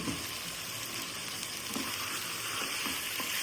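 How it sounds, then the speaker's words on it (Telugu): Stalk pieces frying in a little oil, a continuous even sizzle with faint occasional stirring taps, close by, steady and moderately quiet, with no voices. "కొంచెం నూనెలో మగ్గిన తర్వాత కాడను వేసుకోవాలి."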